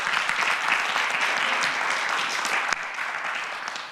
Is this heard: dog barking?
no